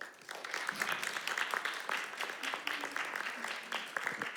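Audience applause at a theatre accessibility event, a moderate round of many hands clapping with irregular louder claps, heard alongside some voices.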